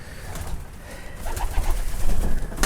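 Pigeons in a breeding loft cooing softly, low murmuring calls overlapping against rustling and breezy background noise, close by with no talk.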